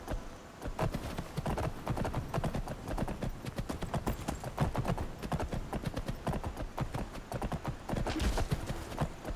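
Horse hooves clip-clop in a quick, steady gallop on hard ground in the video game Skyrim, loud and continuous throughout.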